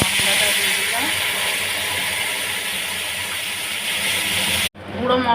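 A ginger, tomato, green chilli and whole cumin paste sizzles in hot oil with a loud, steady close hiss, cutting off near the end as someone speaks.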